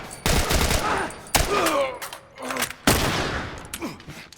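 Bursts of gunfire in The Last of Us, several loud close volleys of rapid shots separated by brief pauses, with faint voices underneath.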